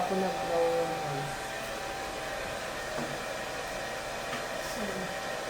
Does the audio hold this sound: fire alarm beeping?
no